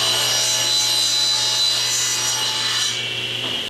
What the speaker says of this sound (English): I tilted my table saw blade to about 8 degrees so that I can form a bevel on one side of my push block